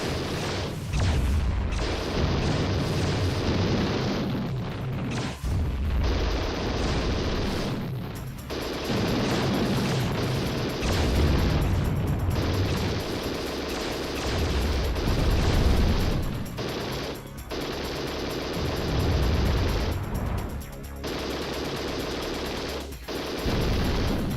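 Explosions and heavy weapon fire from a sci-fi shooter game as an atmospheric processor is destroyed, a loud, sustained barrage of deep booms and rattling blasts running nearly unbroken across the whole stretch.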